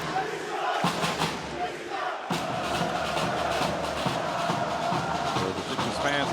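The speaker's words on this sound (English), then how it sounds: "The fans applauding their team as they leave the court" Basketball fans in an arena cheering and applauding their team as it leaves the court after a Champions League game, a loud continuous roar of crowd voices and clapping with shouts rising through it.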